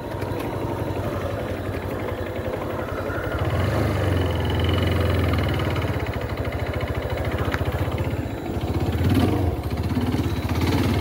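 A motorcycle engine labors up a dirt trail section, a steady close rumble that swells and strains before faltering as the bike stalls without the clutch held.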